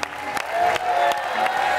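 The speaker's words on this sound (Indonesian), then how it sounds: "boleh kita berikan tepuk tangan sekali lagi" A studio audience on a television dating show claps and cheers steadily in a large room, a continuous wash of applause with a few whoops and some voices mixed in.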